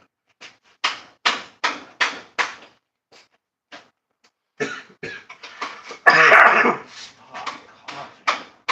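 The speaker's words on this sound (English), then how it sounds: "It's an irritating cough." A dog barks and coughs in short bursts, a run of close, sharp hacks with brief pauses, then a longer raspy throat-clearing cough before the bursts return.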